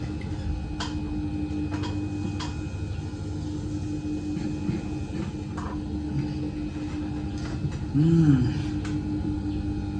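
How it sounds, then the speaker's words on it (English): A sewing machine top-stitches the neckline of a T-shirt, running as a steady mechanical hum with faint rapid ticking throughout, close and continuous, with a brief squeak near the end. "Let's top stitch the neck."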